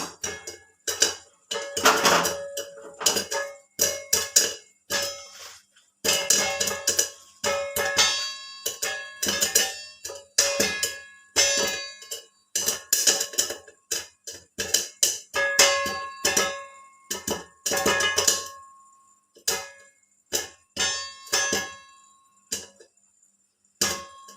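Maize popcorn kernels stirred and shaken in a metal pot, producing irregular bursts of rattling and metallic clanking that start and stop repeatedly over a long stretch, close and crisp with silent gaps between.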